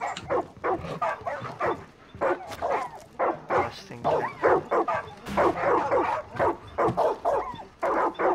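Dogs in the video game Far Cry 5 bark, yip and whimper in a rapid irregular series of close, loud bursts, with some voice mixed in.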